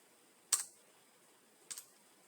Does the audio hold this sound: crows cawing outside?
no